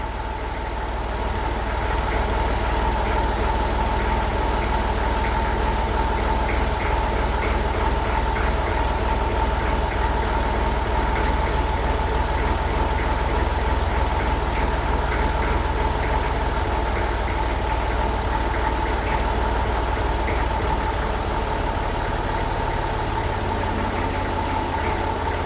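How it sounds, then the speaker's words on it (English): A Massey Ferguson 35 tractor engine idling after its tick-over adjustment, a steady, close, continuous running hum with an even throb throughout and no talk. "I'm now just going to adjust the tick over down a little bit as well."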